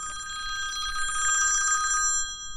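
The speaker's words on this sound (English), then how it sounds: "Of course, I got to have a phone call when I'm trying to film." A phone rings with an incoming call outdoors at a fishing spot on a bank, a bright repeating electronic ring pattern lasting about two seconds, loud and clear with no talk over it.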